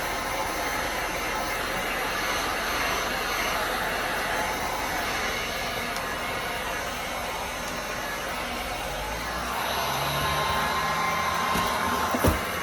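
A heat gun blows a steady, loud hiss of hot air as it textures a foam Halloween coffin, holding constant throughout with a slight shift in tone near the end.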